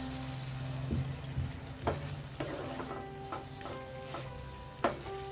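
Water rinsed from a mixer cup is poured into a hot frying pan of mustard-poppy paste with potatoes for paneer bhapa, giving a steady close sizzle punctuated by several sharp splashy bursts and stirring clatter.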